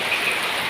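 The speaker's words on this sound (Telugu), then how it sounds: "భారీ వర్షం కొడుతుంది." Heavy rain pours down in a steady, dense hiss of falling drops, close and uniform for a short stretch with no voices.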